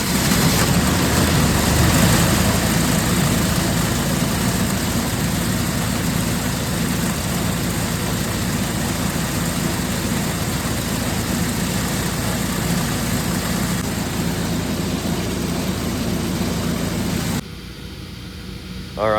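MEP-802A military diesel generator running with a steady, dense low rumble and broadband mechanical noise, close and fairly loud, cutting abruptly to a much quieter hum near the end.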